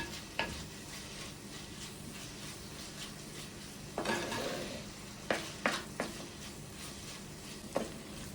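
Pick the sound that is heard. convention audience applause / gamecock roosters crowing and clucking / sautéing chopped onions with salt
sautéing chopped onions with salt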